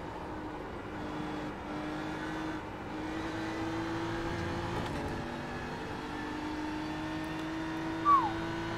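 A BMW race car engine in the iRacing sim at Road America holds a steady, droning mid-pitched tone at speed, with small shifts in pitch and a brief sharp squeal near the end, fairly loud and continuous.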